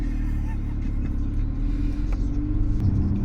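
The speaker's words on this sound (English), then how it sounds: "we're gonna go take this AMG A45 out for a little spin and see what it's like" Inside a Mercedes-AMG A45 out for a drive, the car's engine gives a low, steady rumble and road drone that stays constant throughout, with faint speech in the cabin.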